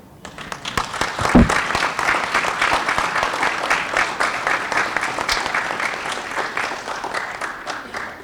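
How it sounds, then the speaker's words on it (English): An audience at a school board meeting applauds students who earned perfect scores, starting with a sharp clap and building into a steady, fairly close round of clapping that fades slightly toward the end. "a big round of applause for our 20 students who scored a perfect score"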